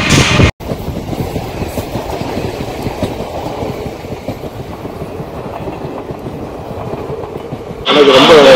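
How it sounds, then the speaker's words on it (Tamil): A train rolls through a railway station close by, a loud, continuous rumble with rhythmic clickety-clack from the wagons, a brief dropout near the start and a louder burst at the end. "நெக்ஸ்ட் ட்ரெயின் வந்ததுக்கப்புறம் பார்க்கலாம்."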